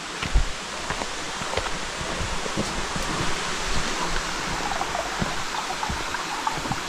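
Waterfalls in South East Queensland heard from a lookout landing above, a steady, wide, hissing rush of falling water that stays even and unbroken throughout.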